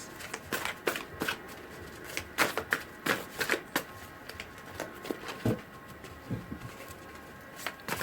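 Tarot cards being shuffled by hand, close up, in irregular bursts of crisp riffling and slapping with short pauses between them.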